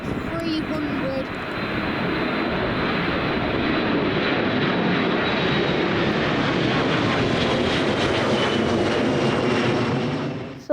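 A Jet2 Boeing 737-300 jet airliner, about 27 years old, gives a loud, steady engine roar that holds for the full stretch before cutting off, with a voice speaking over it.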